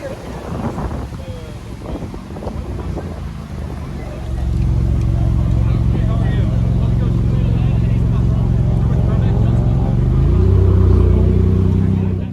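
Lamborghini Huracan Sterrato in green on bronze wheels at a cars-and-coffee meet, its engine idling and then rising to a loud, steady, close rumble after a few seconds of wind and crowd chatter, with voices talking throughout.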